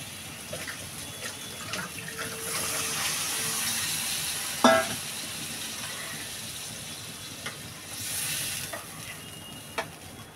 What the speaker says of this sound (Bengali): আমার তরকারিটা কষানো হয়ে গেছে, আমি এবার ঝোল দিয়ে দেবো